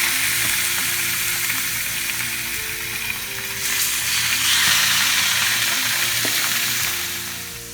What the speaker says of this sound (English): now put the salmon in skin side down